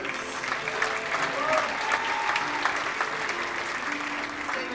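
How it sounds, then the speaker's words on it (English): Sustained audience applause at a live world music orchestra concert, greeting the musical director onstage; dense, steady clapping fills the room at an even level throughout, with a faint band of music or crowd murmur underneath. "How about a big round of applause?"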